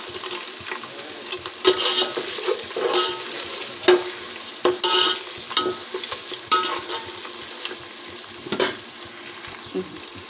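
Green chillies sizzling in hot oil in a pan for chicken biryani, a steady frying hiss broken by scrapes and stirs of a spoon, close and loud with no talking.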